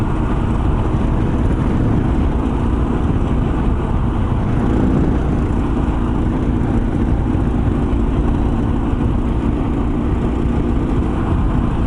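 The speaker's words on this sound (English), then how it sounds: "Let's see what happens when I open the throttle up here." A Kawasaki KLR 650 motorcycle fitted with a KLX needle kit, its engine revving loudly and steadily with the throttle held open, a dense, constant roar with no pauses.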